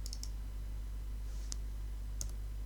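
Sharp computer mouse clicks land as a quick double click, then two more single clicks a moment apart, close and crisp over a low electrical hum.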